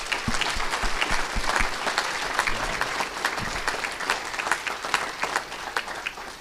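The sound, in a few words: audience applause at a banquet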